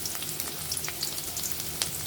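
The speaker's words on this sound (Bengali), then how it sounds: "প্রথমে আমরা তেল দিয়ে দিয়েছি, এখন পেঁয়াজ কুচিগুলো দিয়ে দিব এর মধ্যে।" Chopped onion sizzles in hot oil as prawn ghati is started, giving a continuous crackling fry with scattered pops and light stirring scrapes.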